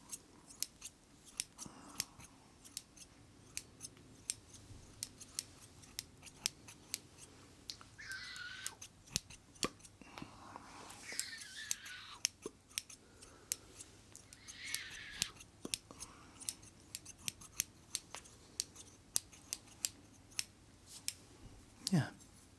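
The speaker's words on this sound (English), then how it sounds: "we'll take a little break from the scissors" Scissors snip close to the microphone in a quiet, soft-spoken ASMR setting, with sharp crisp clicks repeating irregularly throughout and a soft voice talking at times between cuts.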